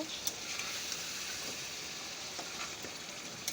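Mutton sizzling as it is stir-fried in a pan, a steady close frying hiss with soft stirring scrapes and occasional sharp pops, alone without talk.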